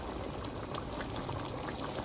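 Water poured from a small masala vessel into a cooking pot of tomato and spice mixture for chicken jalfrezi, a steady close gurgling pour with light bubbling throughout.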